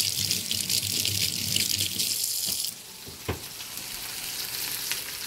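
Water running steadily from a kitchen tap for hands being washed, a broad close hiss that cuts off partway through, leaving quieter kitchen sounds and a couple of soft knocks.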